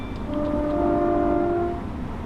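A class 365 train horn in Train Simulator 2014 blares in a sustained, harsh chord for about a second and a half over steady low rumble of a moving train.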